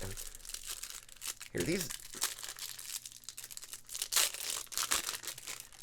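Beverly Hillbillies trading card pack wrappers crinkle and tear in bursts of crisp, close rustling, with a short sharp rip in the middle, while someone talks over the handling.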